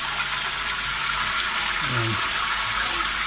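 Shower water running steadily in a bathroom fixture at a hardware store in Italy, a broad close hiss with a person speaking briefly over it.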